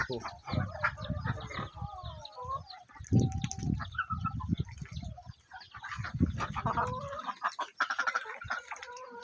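Chickens cluck and ducks quack in busy bursts close by as they feed, with someone speaking intermittently between the birds.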